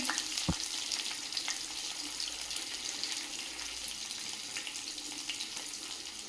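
Chopped onion and panch phoron fry in hot oil, giving a steady, close, bright sizzle throughout with a single sharp clink near the start and faint stirring scrapes.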